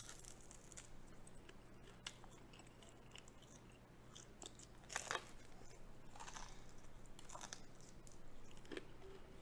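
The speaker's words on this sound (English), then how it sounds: "I'm sorry if y'all hear a whole bunch of crunching, but I like my chicken crispy." Crispy fried chicken is bitten and chewed close to the mic, sending out a few sharp crunches between stretches of quiet chewing over a low, steady background hum.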